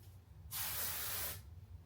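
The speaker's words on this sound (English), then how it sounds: "I absolutely love my spray-on deodorants" A can of spray-on deodorant lets out one steady hiss of about a second, close to the mic, in a quiet room with no talking.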